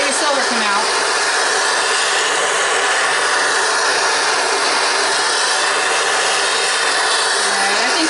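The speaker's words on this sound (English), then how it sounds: "Notice I tilt my torch, and I'm also tilting my crucible." Steady broadband roar of a torch flame heating silver in a tilted crucible, a loud, continuous hiss with no pauses while the metal is melted for casting an ingot.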